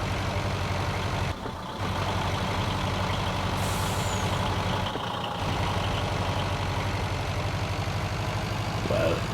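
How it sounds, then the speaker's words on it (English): A fully loaded truck in Farming Simulator 22 climbing a mountain hill, its engine droning heavily and bogging down during gear changes, with brief dips in the low rumble and a hiss like an air brake. "It seems to be when it's changing gears that it kind of bogs down."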